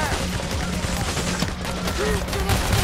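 Dense, continuous gunfire from a PAYDAY The Heist co-op heist fills the whole stretch with sharp shots, while players shout over the firefight.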